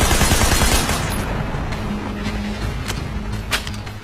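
Gunfire rattles through a gunfight in the video game Sleeping Dogs. Sharp bursts of shots crack over a rumbling, engine-like background, loudest at the start and then scattered.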